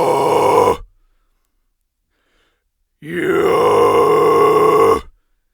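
A voice delivers a mid scream, a raspy, distorted vocal burst of under a second. After a pause of silence, a longer harsh sustained scream of about two seconds follows, loud and close.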